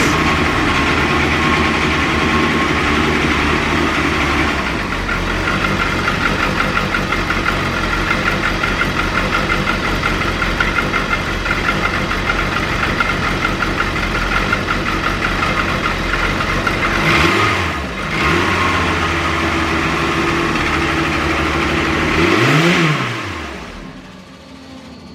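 A Dodge Spirit R/T with a 2.5 stroker turbo engine idles steadily and loudly after starting, with a couple of brief revs near the end before it settles down.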